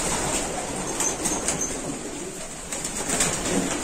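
Pigeons in a loft coo softly and flap their wings in short bursts against a steady background hiss, moderately close, with no talk.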